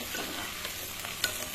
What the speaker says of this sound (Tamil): இப்போ வெங்காயம் எல்லாம் அதெல்லாம் வதங்கிடுச்சுங்க, பூண்டெல்லாம்.